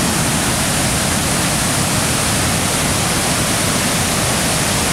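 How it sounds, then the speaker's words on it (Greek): Heavy, steady roar of a waterfall swollen after heavy rain at Garefeio, Almopia, Greece, broadband and continuous with no pauses, loud and close throughout. "τα νερά επιταχύνουν το ρυθμό τους και την πτώση τους"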